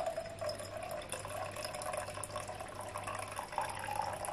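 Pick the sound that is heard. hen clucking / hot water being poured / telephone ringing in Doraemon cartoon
hot water being poured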